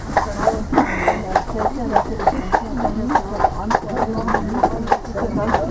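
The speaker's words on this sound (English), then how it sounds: "We have 2 horses pulling us back to the boat." Hooves of two horses clip-clop in a steady trotting rhythm as they pull a carriage in Austria, close and clear, with people talking over the clatter.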